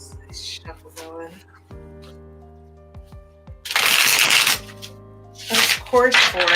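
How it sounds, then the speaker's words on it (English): A tarot card deck is shuffled in repeated bursts of riffling and flicking, loud and close, with a person talking in between and over it. "let me get this deck all shuffled"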